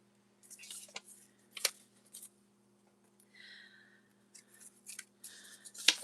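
Scissors cut recycled paper for a mini junk journal in a series of short, crisp snips and rustles, some in quick clusters, close and quiet with pauses between.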